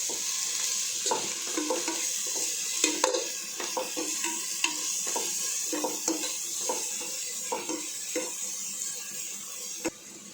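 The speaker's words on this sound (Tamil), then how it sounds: "இப்போ அந்த பேஸ்ட்டையும் இது கூடயே சேர்த்து நல்லா வதக்கி விட்டுடலாம்." Ginger garlic paste sautéing in a pan for kuska biryani, a steady close sizzle with repeated scraping and stirring clicks of a spoon against the pan throughout.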